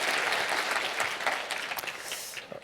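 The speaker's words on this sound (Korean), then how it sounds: "서울 중랑교회 형제 자매님들께 다시 한번 감사의 박수 부탁드리겠습니다" A church congregation claps in thanks, with a full, steady wash of applause that continues throughout and thins slightly toward the end.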